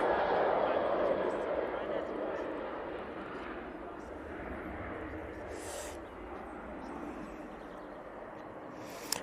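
A plane touches down on runway 05 right at Manchester Airport, its broad engine roar loud at first and slowly easing as it rolls out, with a voice talking over it.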